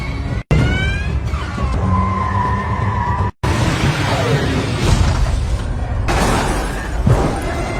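Film car chase through a residential housing complex street, with engines roaring, tires squealing in long skids and a crashing impact, loud and abrupt with sharp cuts between shots.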